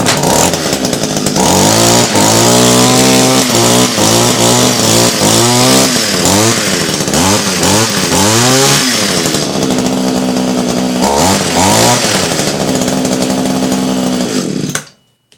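Small two-stroke engine of an Echo HC2400 hedge trimmer, cold and being tuned after a carburetor swap, buzzing loud and close while its revs repeatedly rise and fall, then cutting off abruptly at the end.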